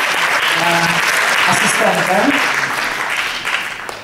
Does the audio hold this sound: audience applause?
yes